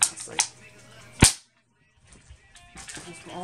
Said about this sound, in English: My BB gun right here